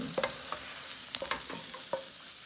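Pieces of food roast and sear in a hot pan with a steady hiss, while a utensil scrapes and taps against the metal in several sharp, uneven strokes; no one speaks.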